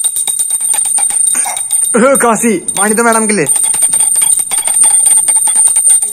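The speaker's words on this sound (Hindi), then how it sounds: "एक कोई बजा रहा है घंटी" A small bell rings repeatedly in rapid metallic taps through a home, steady and fairly close, while a person speaks over it and a brief burst of higher-pitched vocal sound cuts in midway.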